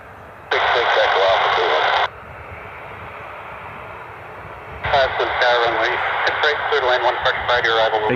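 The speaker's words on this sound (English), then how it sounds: "Turkish Airlines 787 heading to Atlanta" Turkish Airlines Boeing 787 airliner heading to Atlanta, heard near Cleveland Hopkins airport as a broad distant roar under radio chatter, with bursts of radio voice breaking in and out.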